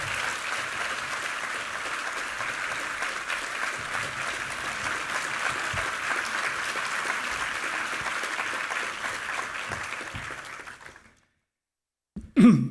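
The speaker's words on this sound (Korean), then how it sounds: "박수로 교수님을 맞이하겠습니다." A church congregation applauds to welcome a visiting professor, steady sustained clapping for about ten seconds that fades out into silence, followed by a brief close sound at the end.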